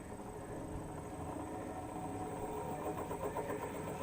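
A grinder motor running alone at low speed, just under its noisy point, makes a steady close mechanical hum with a faint high whine on top and no voices.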